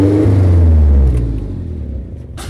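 A Suzuki Vitara 4x4 engine revs close by in a loud low roar that fades down as the throttle drops, ending with a brief knock.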